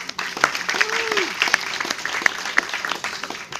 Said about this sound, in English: please give a round of applause for our moderator for today, Dian Purnamasari